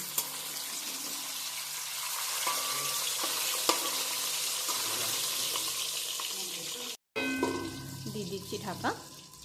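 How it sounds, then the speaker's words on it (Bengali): Continuous crackling sizzle of katla fish frying in hot oil under a lid over medium flame, then a brief cut and lighter sizzling with a few clinks. "মিডিয়াম ফ্লেমে আমি ঢাকা দিয়ে মাছগুলোকে ভেজে নেব"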